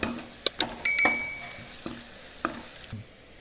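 A spoon stirs turmeric into a sizzling tempering for a broad beans and tomato curry, with several sharp metallic clinks against the pan over a faint fry, up close.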